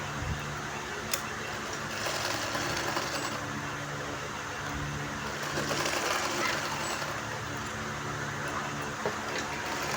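A sewing machine top-stitches a blouse, running with a soft, continuous whirring and clatter at a steady pace, fairly quiet with faint background noise and no talking.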